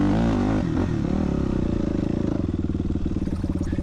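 A 2000 Yamaha YZ426F big four-stroke thumper dirt bike climbing uphill in first gear, its engine loud and close with a steady pulsing chug that deepens under load.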